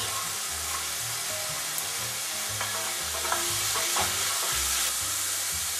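Diced onion and carrot frying in a pan for a veggie bolognese, a soft continuous sizzle with a few light stirring scrapes partway through, under quiet background music.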